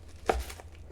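A knife slices through a vegetable in a kitchen while making vegetarian lasagna, giving a single soft close-up chop that thuds onto the board, with quiet room noise before and after.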